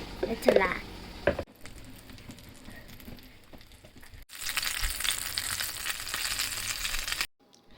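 Pasta snacks frying in hot oil at home, a steady bright sizzle that swells loudly midway and cuts off abruptly, with brief handling noises and speech near the start.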